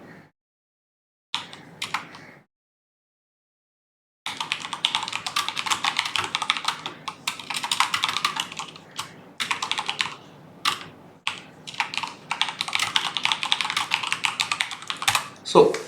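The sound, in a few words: typing on a computer keyboard into spreadsheet cells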